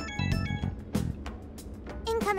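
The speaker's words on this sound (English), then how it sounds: "Incoming phone call from Asai Nijima." An incoming phone call ringtone in the Persona 5 Strikers video game, a short melodic ringing pattern with bright tonal notes, fairly quiet, playing alone without talk.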